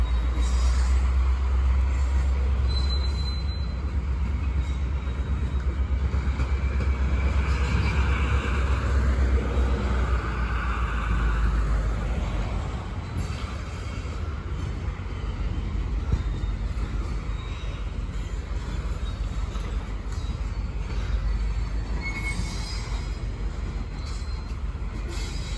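A long CN freight train of grain cars rolls past close by, a steady loud rumble of wheels on rail with intermittent high squealing from the wheels throughout, no one talking.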